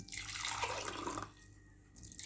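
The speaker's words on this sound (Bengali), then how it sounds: "এবার দেখেন ফুমি শরবতটা আমি ঢেলে নিচ্ছি" Bottle gourd sherbet blended with honey and coconut oil pours steadily into a cup, a continuous close liquid splash that thins and pauses briefly near the end before resuming.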